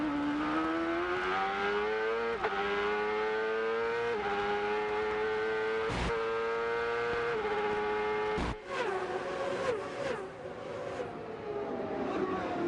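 A 1997 IndyCar race car at Long Beach runs at speed from an onboard position, its engine tone stepping down through several sharp downshifts as it brakes hard for a turn, then picking up again.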